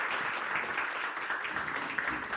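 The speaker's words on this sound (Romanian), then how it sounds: "Haideți să-l aplaudăm" Fairly soft, steady applause from the audience at an energy summit, a continuous patter of many hands heard at some distance, with no talking over it.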